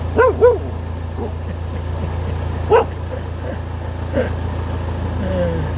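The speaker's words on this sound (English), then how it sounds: "This is where the dogs are." A few short dog barks and yips ring out near the start at a marina, then sporadic fainter yelps over a steady low widebeam boat engine hum.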